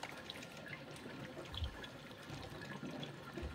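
A Bunn coffee maker brewing, pouring a continuous stream of water with a steady, close hiss-like rush that stays even throughout.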